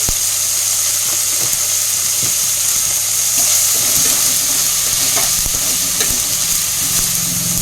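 Turmeric-laced spice masala fries in a pan with a steady, close hiss and sizzle, broken by frequent scraping and stirring knocks throughout; no voices.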